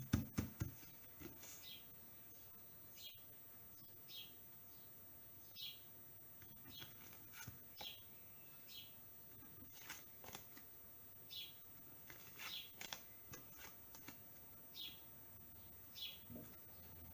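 Small birds chirp outside an open window, faint, high-pitched tweets recurring in a loose irregular rhythm over a quiet indoor room, with occasional soft shuffling nearby.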